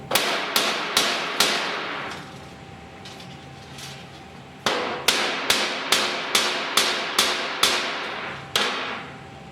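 Sharp metallic hammer strikes on a snare end loop ring out, four quick blows, a brief pause, then a steady series of about nine more, close and loud.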